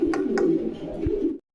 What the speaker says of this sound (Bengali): এখানে 2 পিস কবুতর দেখতে পাচ্ছেন